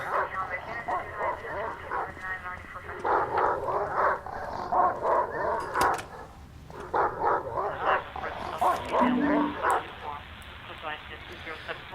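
A dog in the survival horror game Silent Hill: Downpour barks in repeated, close, fairly loud bursts with brief pauses across the stretch, set over a dense layer of other game sounds.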